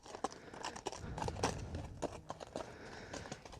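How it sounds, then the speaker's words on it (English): A big horse walking along a green lane, hooves clip-clopping in a steady uneven rhythm under outdoor wind noise, fairly close by. "That's a horse. He's real big."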